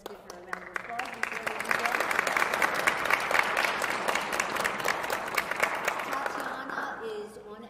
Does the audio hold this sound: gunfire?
no